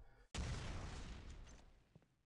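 Explosion in a first-person shooter, one abrupt booming burst that decays over about two seconds, faint overall.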